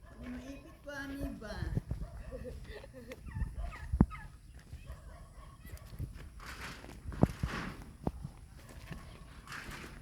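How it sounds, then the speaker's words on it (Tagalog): A turkey gobbles in short bursts amid outdoor noise and occasional knocks, with people talking nearby at moderate distance. "Na may pabo."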